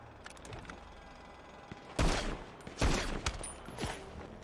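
Rapid automatic gunfire in a GTA roleplay police chase: dense bursts of loud shots around two and three seconds, with scattered quieter shots and mechanical clatter between them, no talk.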